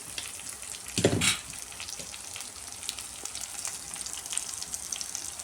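Tomatoes with turmeric and coriander powder sautéing in a pan for rasam, a low steady sizzle with a louder burst of spattering near the start and light stirring scrapes.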